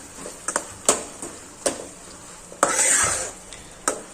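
A spoon stirs finely chopped tomatoes in a hot pan for a Gujarati sing bhujiya shak, giving a series of short scraping clacks at an uneven rhythm, with a longer, louder sizzling scrape near the end; close and clear, with no talking.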